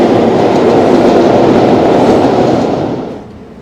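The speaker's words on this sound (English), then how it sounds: "Oh, there's a train going." A train rumbles past close by at night beside a marina in Lisbon, a loud steady roar of wheels on rails that fades toward the end.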